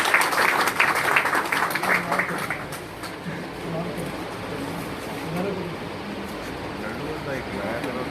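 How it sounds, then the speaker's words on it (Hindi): An audience at a pigeon-keeping gathering in Pakistan claps in a burst of applause that fades after about three seconds, leaving murmuring voices and low background noise. "तालियां हो जाए"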